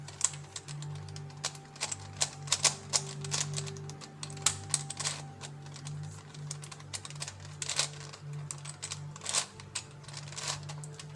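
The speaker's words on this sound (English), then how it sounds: "This is similar to just doing a regular shuffle on a Rubik's Cube." A plastic WitEden Octahedral Mixup Plus II twisty puzzle being scrambled, with rapid irregular clicking and clacking turns, close and crisp, over a steady low hum.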